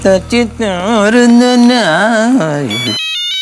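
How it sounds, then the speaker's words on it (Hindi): A mobile phone rings with a melodic ringtone, a loud, continuous gliding tune playing close by and cutting off abruptly near the end. "जेठालाल का फोन"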